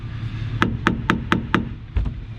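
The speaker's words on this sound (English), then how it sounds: "Sometimes when you smack it with a hammer" Five sharp hammer smacks in a steady rhythm on the rusty floor pan of a 1960 Buick Flattop, followed by two softer, duller knocks, close and loud over a low background hum.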